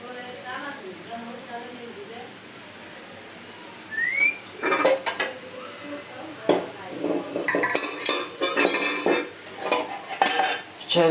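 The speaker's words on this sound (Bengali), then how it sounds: "ছোট কড়াই আছে শারমিন" Metal pots, a small wok and utensils clank and scrape intermittently, with people talking nearby and a brief whistle early on.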